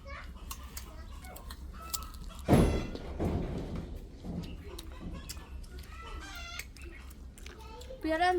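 Chickens cluck and call repeatedly among a steady background murmur of voices, with one loud thump near the middle.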